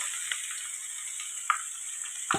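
Banana blossom stir-fry sizzling in a hot pan, a steady bright hiss with a few faint ticks and scrapes as it is stirred, close and without talk.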